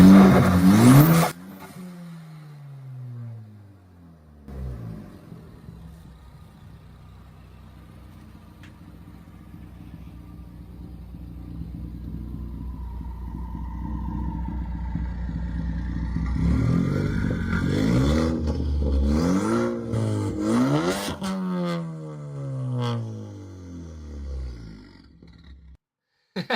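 Loud car engine nicknamed the fart cannon: a sharp rev at the start, a long rumbling idle that swells into repeated roaring revs near the end, close and forceful.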